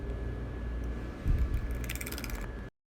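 A fork whisks Dalgona coffee in a bowl, a steady busy clatter of rapid scraping strokes that grows brisker near the end and then cuts off abruptly.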